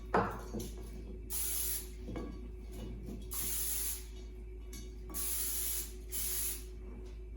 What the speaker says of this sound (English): I'm gonna spray this all over my asparagus